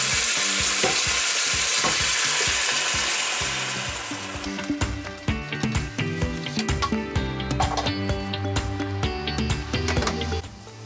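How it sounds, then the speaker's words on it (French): Pieces of turkey sizzle loudly in a pan, a steady hiss that changes as tomato is poured in around four seconds, after which wet bubbling and stirring scrapes continue at close range. "La dinde est en train de cuire tranquillement."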